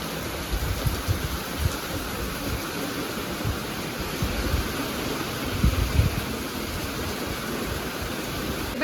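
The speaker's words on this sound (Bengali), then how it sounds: "আর এদিকে দেখুন বৃষ্টিটাও চলে এসেছে" Heavy rain pours steadily outdoors beside a kitchen where onions are being fried for mutton curry, a dense, continuous wash of noise with no voices.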